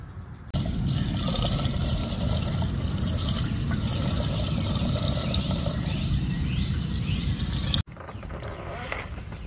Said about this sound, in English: we're gonna pour in a little bit of gas and see if it holds